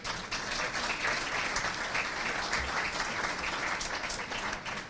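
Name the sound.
applause for a sponsor at a city event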